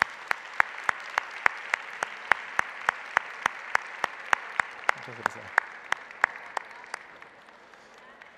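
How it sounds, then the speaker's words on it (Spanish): An audience at a genealogy conference talk claps in unison, with sharp, evenly spaced claps repeating briskly for several seconds before thinning out. A voice briefly says a word partway through. "es un doble aplauso para ella"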